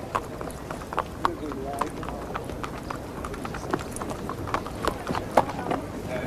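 Racehorses at a racecourse, hooves clip-clopping in an uneven patter amid crowd murmur and voices, moderately distant and continuous.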